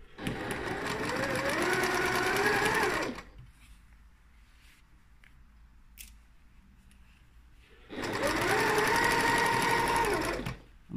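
Domestic sewing machine stitching a half-inch curtain seam, running in two steady bursts of about three seconds each with a quiet pause between, stopping at a pin and backstitching; close, loud and mechanical with no talking.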